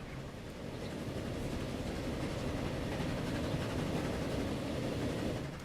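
A train rolls steadily along rails in the Transport Fever video game, giving a continuous low rumble with faint rhythmic clatter throughout.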